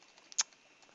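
Computer keyboard keys tapped while entering a category name in a game plugin menu, a few faint soft clicks with one louder keystroke near the middle, close and quiet, with no talking.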